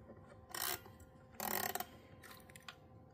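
A Swiss music box movement is wound by hand in three short bursts of close, crisp ratcheting clicks separated by brief pauses.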